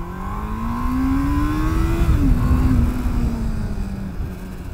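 Honda Hornet CB600F motorcycle engine while riding, a rising drone as the bike accelerates, a brief dip at a gear change, then a steady pull with wind rumble around it.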